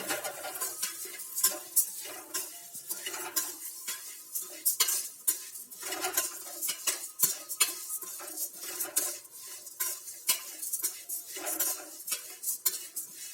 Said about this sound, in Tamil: நெய் சூடானதுக்கப்புறம் இந்த அவல் போட்டு நல்லா ஃப்ரை பண்ணிக்கலாம்.